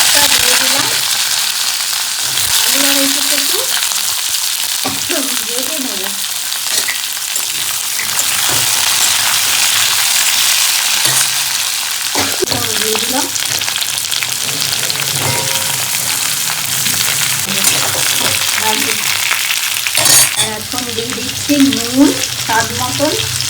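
Whole spices, cardamom, cloves and cumin, fry in oil with a loud, continuous crackling sizzle close up, with occasional scrapes and clinks of a stirring utensil breaking through.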